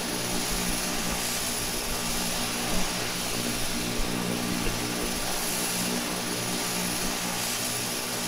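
An Embraer EMB-120 turboprop taxiing in a flight simulator game, its propeller engines giving a steady, loud, droning hum with a constant tonal whine and no pauses.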